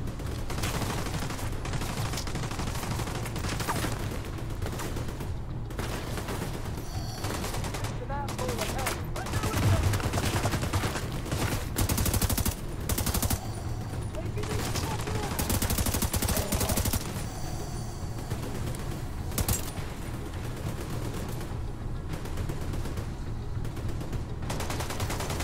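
Sustained automatic gunfire in the shooter video game The Division 2, dense rapid bursts and fusillades running almost without pause at a loud, steady level, with occasional player voices mixed in.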